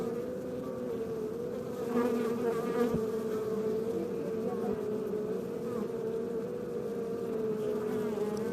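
Honeybees packed into a full hive produce a dense, steady buzzing drone, close and continuous throughout, with a slight swell in intensity partway through.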